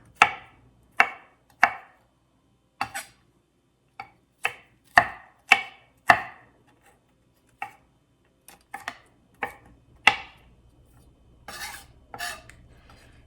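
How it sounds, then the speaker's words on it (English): Garlic being chopped with a knife on a board for a lemon rosemary farmers cheese: a series of sharp, close knocks in an irregular rhythm, some quick pairs and clusters, with no talking. "So I have my garlic cut up."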